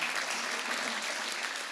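An audience clapping for a moderator at a youth center parent night, dense steady applause from many hands, even and moderately distant, with no voices standing out.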